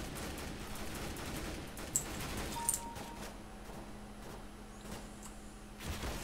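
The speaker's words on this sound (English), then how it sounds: "I just started shooting" Gunfire in Counter-Strike: Global Offensive, a fusillade of rapid shots with sharp bursts near two and three seconds over a steady background hum, moderately quiet with no talk.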